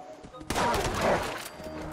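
A loud burst of gunfire in Fallout 76, one sharp crack opening a rough, noisy volley that fades out over about a second, close and prominent.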